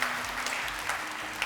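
Steady applause from a studio audience at a Ramadan TV game show, dense and continuous clapping throughout without a break.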